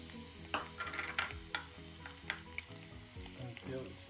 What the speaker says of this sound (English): We will fry a garlic